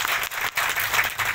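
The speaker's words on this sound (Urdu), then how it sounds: "تالیاں بجا کے حوصلہ افزائی کیجیے گا۔" Audience applause at an apricot festival in a Shigar agri-tourism village, a dense burst of many hands clapping close by, loud and continuous for a moment with brief dips.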